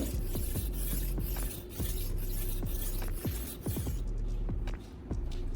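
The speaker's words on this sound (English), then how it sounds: "moving the stone smoothly back and forth along the full length of the blade" A kitchen knife blade is drawn back and forth along a sharpening stone, giving a steady series of short, rasping strokes over a continuous tonal background.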